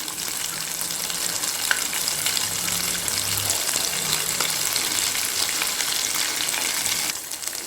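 Potato nuggets frying in oil in a pan make a loud, steady, close hiss and crackle with a few faint knocks from turning them, and no voices.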